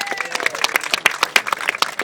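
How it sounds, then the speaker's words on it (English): Audience at a Mini Cooper Day event clapping to welcome a celebrity chef who rescued a famous works Mini, with individual claps clearly separated in a brisk, uneven rhythm from a modest crowd close by. "we start with a big round of applause for a man who's rescued one of the famous works minis, James Martin"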